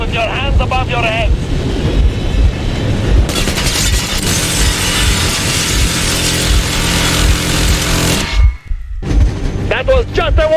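Warning gunfire bursts out in Metro Exodus as a loud, sustained roar of shots. Voices come before and after it, and it cuts off abruptly into brief silence before the talk resumes.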